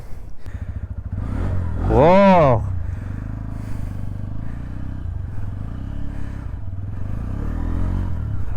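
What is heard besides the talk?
motorcycle engine starting and exhaust revving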